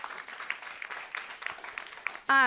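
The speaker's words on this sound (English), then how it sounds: "so give them a round of applause" An audience applauds at a panel event on food security, a steady spread of clapping that carries on for a couple of seconds before a brief, louder tonal sound cuts in at the end.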